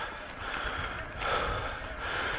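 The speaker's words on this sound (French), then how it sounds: "D'ailleurs, je renifle un peu." A person with the tail end of a heavy cold sniffles and breathes through a congested nose, a close, airy, continuous snuffling rush with no speech.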